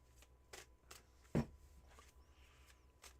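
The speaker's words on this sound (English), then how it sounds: "cleansing shuffle is in full effect." Tarot cards shuffled by hand in a quiet room, a few soft riffling bursts with one sharper, louder riffle near the middle, no talking.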